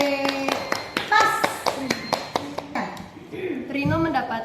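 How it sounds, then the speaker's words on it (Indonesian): A group in a classroom claps hands in a quick, steady rhythm of sharp, close claps. Young voices speak over it, and a cheer comes near the end. "Oke, tepuk tangan yang sudah."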